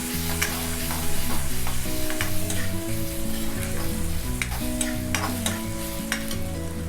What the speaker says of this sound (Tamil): வெங்காயம், தக்காளி, இஞ்சி பூண்டு இது 4மே ஒன்றா சேர்த்து ஒரு 2 நிமிஷம் போல் ஹை ஃப்ளேமில்